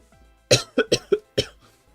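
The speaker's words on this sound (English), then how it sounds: "I'm coughing like a fucking diseased child." A person coughs in a quick run of five harsh, close bursts, the first loudest, with short gaps between them and silence around the fit.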